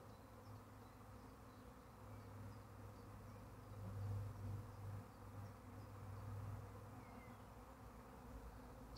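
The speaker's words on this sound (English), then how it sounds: "Thousands of bees in the air." A swarm of thousands of honeybees fills the air with a continuous low buzzing hum that swells slightly louder in the middle, steady and unbroken with no voices.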